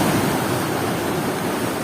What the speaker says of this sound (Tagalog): Grabing alon yan.